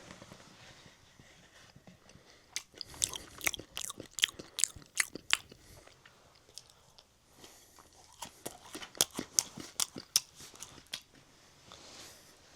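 Close, crisp crunching and biting on homemade cookies, sharp irregular bursts coming in two busy runs with short quieter pauses, no talking.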